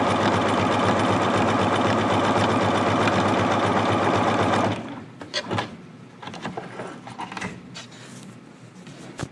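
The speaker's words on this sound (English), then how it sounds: "we are just going to sew one side seam" A sewing machine fitted with a stretch needle runs steadily, stitching one side seam all the way down on jogger fabric. The loud, continuous whir stops abruptly partway through, leaving quiet handling clicks and rustles.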